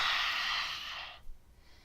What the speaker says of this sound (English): Taking a deep inhale and exhaling lion's breath.